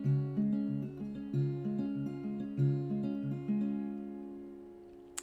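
Clean acoustic guitar picks a gentle descending note pattern from a song, individual plucked notes ringing in a steady repeating rhythm, soft and close, gradually fading with a small pluck at the end.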